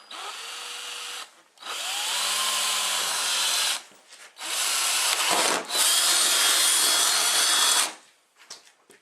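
Loud, sustained bursts of a power drill running close by, three long runs separated by brief pauses, with no talking.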